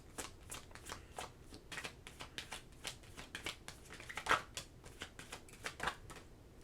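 A deck of tarot cards is shuffled close by in a quiet room, giving a rapid run of soft riffling flutters and slaps.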